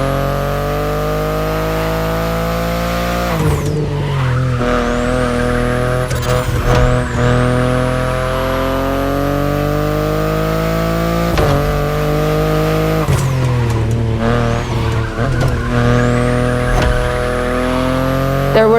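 A BMW i8 sports car driven in The Crew Motorfest, its engine droning loud and steady with rising pitch sweeps through gear changes and brief tire squeals, constant throughout without talk.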